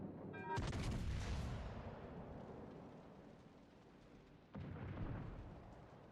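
Naval gunfire in World of Warships: a heavy cannon salvo booms sharply, rumbles and decays, then a second deep blast follows a few seconds later, loud and close.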